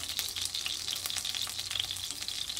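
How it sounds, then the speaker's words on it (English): Loud, steady sizzling of meat frying in a hot pan, a dense hissing crackle that runs continuously without any talking. "Alright, so I just flipped it and it's sizzling like crazy."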